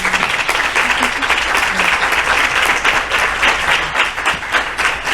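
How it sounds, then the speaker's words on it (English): An audience at a survivor panel applauds steadily and loudly for the speakers, dense clapping filling the room without a break, with faint voices mixed in. "So one more clap for them."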